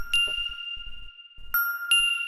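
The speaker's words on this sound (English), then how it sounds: "I just have this bell here, this Ableton sound" An Ableton bell sound with reverb and drum bus strikes three times, each a bright, clear metallic ding with a long ringing decay, alongside soft low thumps.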